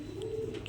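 A single short, soft coo comes from a pigeon at a pigeon farm. It is faint and brief, with no voices around it.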